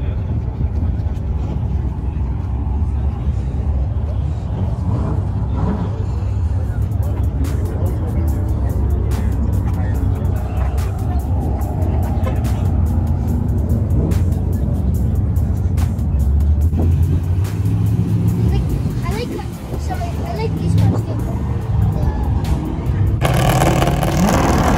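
A Mercedes car at an Atco Raceway track day, its engine a steady low rumble that runs nearly throughout, rising and falling slightly, with a brief dip near the end and wind or crowd noise around it.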